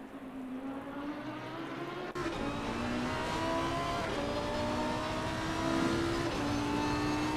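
A Lamborghini Huracan Evo GT3 race car in Assetto Corsa Competizione gives a steady, loud engine drone with shifting pitch as it revs and gears change, holding at a constant level throughout.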